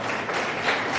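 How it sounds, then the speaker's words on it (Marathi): Audience applauding loudly for an elderly woman, a continuous dense wash of clapping that holds steady and full throughout, with no voices rising above it. "जोरदार टाळ्या"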